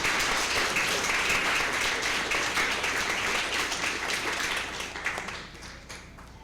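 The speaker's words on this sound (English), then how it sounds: "Let's give them a round of applause as they walk in." Applause at a school district board meeting as Special Olympics athletes walk in, a loud, dense crowd clapping that holds steady for several seconds before thinning and fading near the end.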